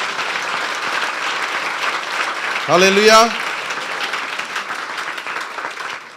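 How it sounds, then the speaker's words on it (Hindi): A church congregation bursts into loud applause during a sermon, a short clapping burst after a man's spoken exclamation amid ongoing hall ambience. "बजा दें उसके जलाल के लिए जोरदार तालियां।"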